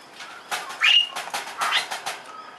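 A pet bird near an aviary makes a racket of repeated sharp, whistling calls and chirps in short bursts, fairly close and loud against a quiet background.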